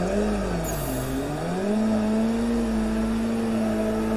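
A sim racing car engine revving steadily in the Assetto Corsa video game during a drift run, a continuous loud drone whose pitch dips, then climbs and holds high as the car shifts up a gear.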